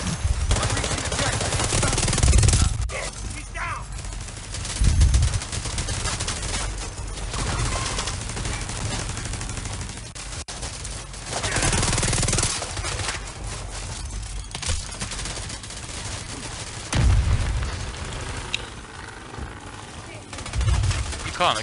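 Rapid gunfire bursts from the video game The Division 2, repeated throughout at close range, with loud peaks recurring every few seconds under a steady battle din while players talk over it.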